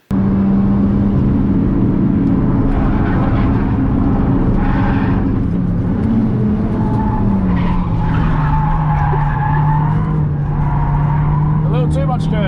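Mitsubishi Lancer lapping a race track on a passenger day, engine droning close and loud while tires squeal and skid through corners, with voices talking over it.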